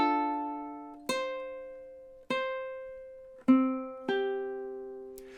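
Ukulele strummed alone in five distinct plucked chords, each ringing and decaying before the next, playing a slow measure of a song at close range.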